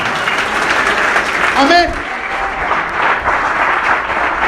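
Church congregation applauding during a Spanish-language Christian sermon, a steady wash of clapping that fills the clip, with a voice speaking over it.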